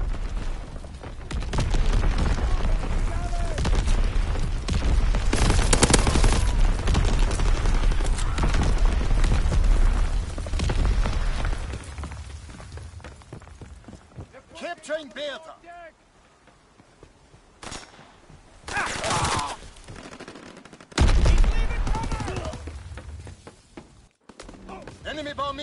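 Distant artillery shells from a World War II shooter game boom and rumble in a dense, continuous barrage, with sharp blasts breaking through near the end and battlefield voices in between.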